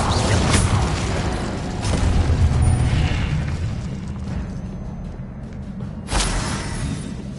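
Spell casting effects in the game Hogwarts Legacy, several booming magical bursts and whooshes, loud and close, with a sharp burst near the start and another near the end.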